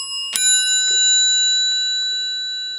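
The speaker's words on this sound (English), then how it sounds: "Very simply made bell," An old telephone's simply made bell with metal gongs, struck once with a sharp metallic ding that rings on, then a few softer taps while the bright tones sustain and slowly fade, close and clear.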